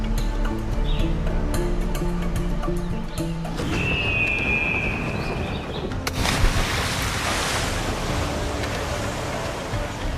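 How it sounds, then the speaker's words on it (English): Ocean waves wash and surge around a sailing ship in the pirate game Assassin's Creed IV Black Flag, with wind and musical tones over a steady, loud sea bed. "So now that we're back in the ocean"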